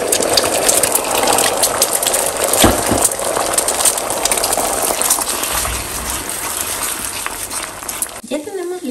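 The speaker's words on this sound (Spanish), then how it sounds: "Voy a agregar un poquito de aceite en un sartén y voy a agregar el huevo." Beaten eggs poured into a hot oiled frying pan hiss and sizzle in a steady, loud, broadband wash that runs nearly nine seconds before cutting off abruptly at the end.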